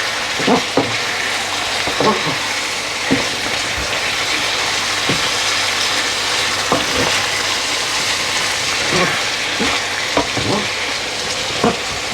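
Chili and turmeric powder are stirred into a sizzling Pakistani potato chicken curry, with steady frying hiss under a run of spoon scrapes and taps against the pan, close and fairly loud, no talking.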